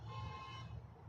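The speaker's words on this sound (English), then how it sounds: "people are honking like he has any choice." Car horns honking in stopped traffic near a bridge in Akron, a steady tonal blare held over low road rumble, continuous and moderately loud for the whole moment.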